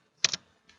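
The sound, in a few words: pressing Enter on a computer keyboard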